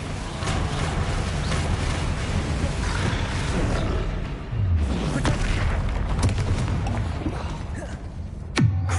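Bombarda blasting spells exploding in the video game Hogwarts Legacy, a loud rumbling boom that lingers with heavy low rumble and crackle, followed by a sharp swooping impact near the end.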